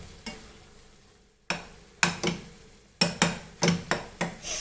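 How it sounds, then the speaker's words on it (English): Tomatoes being fried in a pan for egg xacuti, stirred with a utensil in repeated scraping strokes over a soft sizzle, the strokes coming faster toward the end, close and clear with no talk. "Fry this again till the tomatoes are nicely soft."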